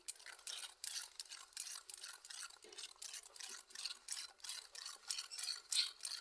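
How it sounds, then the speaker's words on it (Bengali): A spoon works through a flour and semolina cake batter in a bowl, making soft, rhythmic scraping and swishing strokes. Quiet and close, with no voices. "দেড় কাপ ময়দা দিয়েছি আর এক কাপ সুজি দেওয়ার জন্য আমি ময়দাটা দু কাপ দিয়ে নিই আমি দিয়েছি দেড় কাপ এবার ভালো করে মিক্সড করে নিচ্ছি"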